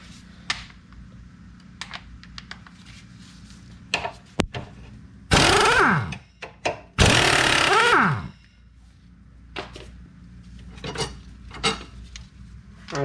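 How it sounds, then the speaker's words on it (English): Air impact wrench spinning off suspension bolts on a 1998 Honda Accord during ball joint and control arm work, two loud rattling hammering bursts of about a second each amid scattered clinks of tools and parts in a garage. "Here, just use the air impact."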